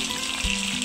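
Freshly caught fish cooks in a pan, giving off a steady, soft sizzle with no talk. The frying hiss stays even throughout at a modest, close level.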